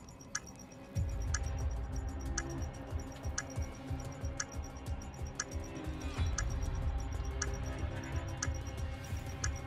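A planted bomb ticks steadily in the Call of Duty Modern Warfare III video game, evenly spaced sharp ticks repeating over a dense low rumble of in-game background noise throughout.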